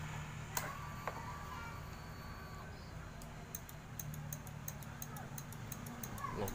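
A Honda Vario 150 whose engine will not start gives a run of rapid small clicks from the starter relay, heard over steady background noise.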